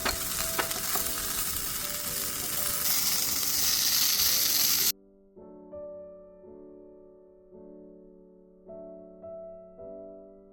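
Onion, garlic, mint, coriander and green chili fry lightly in a pan for a mutton chops masala, making a dense, continuous sizzle with stirring. After about five seconds it stops abruptly and soft tonal music takes over.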